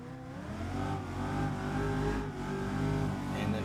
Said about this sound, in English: So I'm going to make the input and I'm going to clutch kick at the same time and do it